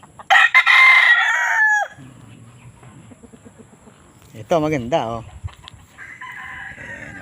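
A fighting rooster crows loudly near the start, a second crow follows a few seconds later, and a person speaks briefly between them amid market background noise.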